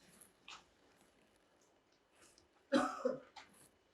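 A sharp, rough cough bursts out once near the end, with a smaller follow-up catch right after; otherwise only a faint, quiet background.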